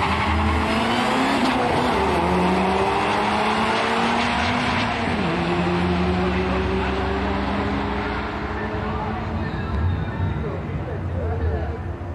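Chevrolet Cavalier and Pontiac Sunfire J-Body cars drag racing, with loud sustained engine roar, rising revs and tire squeal filling the whole stretch, mixed with crowd or commentary-like noise.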